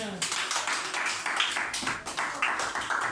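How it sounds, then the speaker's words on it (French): Audience at a private school's reading club semifinal clapping for the four finalists, a brisk run of close, sharp handclaps with a voice speaking over it. "On applaudit encore"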